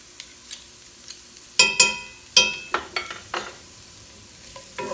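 Pressed garlic, two cloves, stirred in a skillet: a soft sizzle runs under a series of sharp scraping and clinking stirs from a utensil against the pan, irregular and close.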